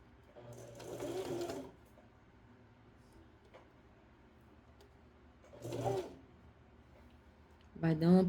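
Domestic sewing machine stitching a plus-size ring swimsuit, running in two short bursts with a third starting at the end, separated by quiet pauses, moderately close.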